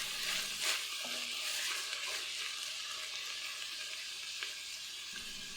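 Carrots and tomatoes cook in a steaming saucepan, giving a soft, steady sizzle and hiss with occasional light stirring clicks, fairly quiet and close.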